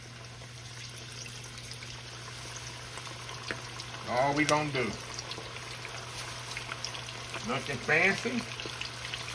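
Breaded buffalo chicken drops into hot oil in a wok, bursting into two loud sizzling surges over a steady background frying hiss, while someone talks casually nearby.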